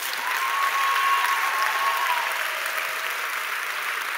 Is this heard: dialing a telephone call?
no